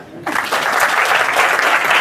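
An audience bursts into applause after a brief quiet moment, a sustained, loud patter of many hands clapping that continues to the end.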